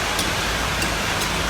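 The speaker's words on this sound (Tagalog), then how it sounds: "Malakas din ang ulan." Heavy rain pours down in a steady, dense hiss with no break, close and loud throughout, with no voices over it.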